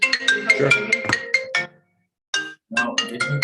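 A mobile phone ringtone plays loud and close during a Zoom park board meeting, a bright repeating melodic tone pattern that stops briefly and then starts again.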